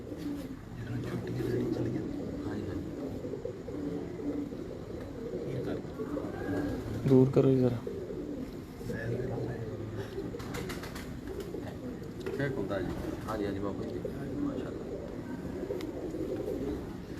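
Pigeons in a loft make soft low cooing and burbling calls off and on, while people talk close by.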